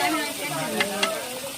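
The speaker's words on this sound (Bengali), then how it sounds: "এটা রান্নার মশলার গ্রেভি তৈরি হচ্ছে" A spice gravy simmers and sizzles in a pan with a continuous frying hiss, punctuated by two quick scraping stirs, in a village kitchen setting.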